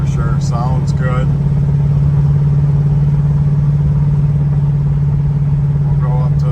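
A 1972 Dodge Charger engine drones steadily and loudly while driving, a constant mid-range hum that runs under someone talking throughout.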